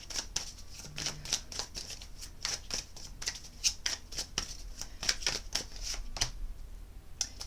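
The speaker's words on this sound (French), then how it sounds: "On va regarder avec le tarot des sorcières." Tarot cards of a witches' deck being shuffled, a steady run of crisp riffling card flicks close up and alone, with no talk over it.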